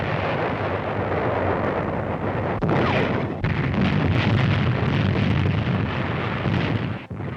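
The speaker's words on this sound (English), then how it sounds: "American artillery finds targets with an accuracy that astounds the Germans" Artillery fire in a 1943 North Africa wartime newsreel, a continuous loud roar of explosions and blasts with rumbling bursts, heavy and dense with a sharp burst near the end.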